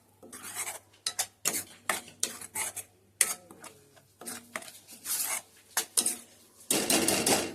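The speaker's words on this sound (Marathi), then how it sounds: "मिक्सरचा भांडा पण मी धुवून घेते" Repeated clatter and scraping of a metal mixer-grinder jar being scrubbed and rinsed, with irregular bursts and a rushing wash at the end.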